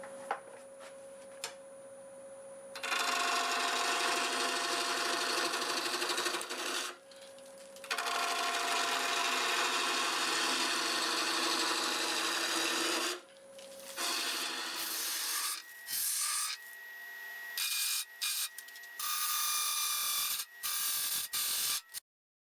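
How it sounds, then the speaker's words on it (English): A wood lathe spins a twisted tangent-stave blank at 750 RPM while a half-inch bowl gouge cuts it in long, rasping, chattering bursts separated by quieter pauses, ending in a string of short, choppy cuts. "Got a 1/2 bolt gouge and we'll be turning at 750 RPM."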